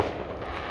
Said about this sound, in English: can you hear the fireworks?